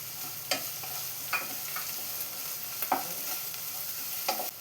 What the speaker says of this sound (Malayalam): ഇനി ഇതെല്ലാം കൂടെ ഒന്ന് ഇളക്കി ഒന്ന് സവാളയെല്ലാം ട്രാൻസ്പെറൻ്റായി വരുന്നവരെ ഒന്ന് വഴറ്റിയെടുക്കാം